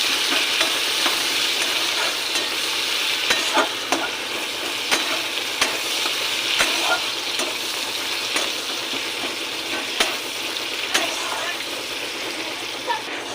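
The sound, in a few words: chopped onions frying in oil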